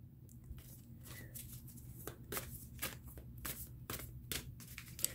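Tarot cards riffle and slap together in repeated quick bursts, a close, crisp papery shuffling that comes in rhythmic flurries with no talking.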